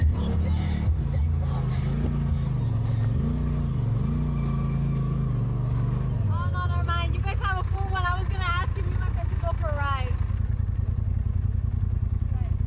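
Polaris RZR Pro XP 4 Ultimate side-by-side droning loudly and steadily as it drives over desert sand dunes at Oceano Dunes, engine rising and falling in pitch, with people talking over it in the second half.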